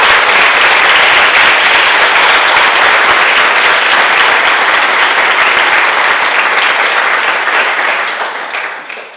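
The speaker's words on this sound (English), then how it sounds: "How about a big round of applause for our teachers?" A school audience at an end-of-year middle school ceremony claps loudly and steadily for its teachers, a dense wash of applause that holds for several seconds before tapering off at the end.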